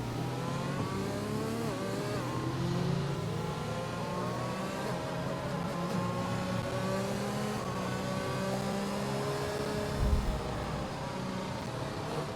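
Race cars accelerating on a circuit in a racing video game at the Belgium round, several engines whining and rising in pitch together, a loud continuous layered drone with shifting tones and no speech.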